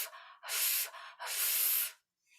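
A voice imitates the letter F sound with two breathy, hissing "fff" exhalations, the second longer, close and clear.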